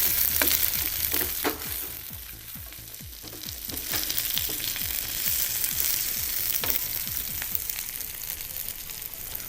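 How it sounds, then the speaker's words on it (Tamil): Diced onions and capsicum sautéed in a pan for Chinese chilli chicken, heard as a steady close sizzle with repeated scraping stirs of a spatula and no talking. "அதிலே கொஞ்சம் டைஸ் பண்ண ஆனியன்ஸும் கேப்சிகம்ஸும் ஆட் பண்ணிங்க. ஆட் பண்ணிவிட்டு கொஞ்சம் நல்லா அதை சாத்தே பண்ணுங்கள்."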